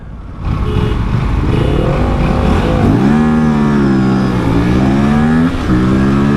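An Aprilia RS457 motorcycle launches hard in a drag race against other bikes, its engine roaring loud and close with rising revs and sharp shifts over several seconds.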